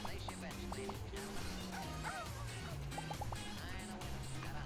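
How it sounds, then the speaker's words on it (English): Many dogs bark and yip in quick succession inside the video game My Time at Sandrock, a busy overlapping chorus over steady game music with occasional short blips. "That was a lot of dogs."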